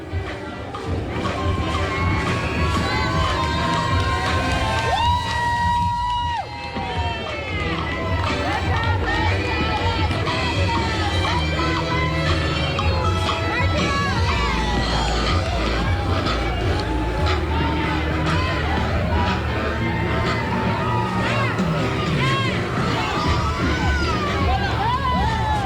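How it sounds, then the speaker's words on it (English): Woolley Elementary cheer team performing at a Dr. Martin Luther King Jr. birthday parade downtown, a dense wash of crowd noise, shouting and cheering that runs steadily throughout, with a commentator's voice over it. "Let's see if we can't get a cheer out of them."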